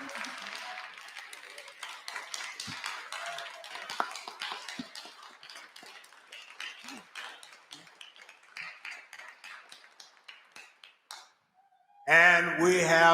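Hearing room audience claps for the reparations task force chairperson; scattered, fairly sparse applause fades out over about eleven seconds before a voice begins speaking.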